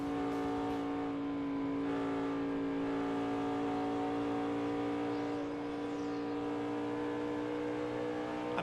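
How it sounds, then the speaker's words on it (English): A NASCAR Nationwide Series race car at Fontana practice, its engine droning steadily loud and close throughout as the driver feathers the throttle, a dense harmonic roar holding nearly constant pitch with slight swells. "listen to the way she's working the throttle"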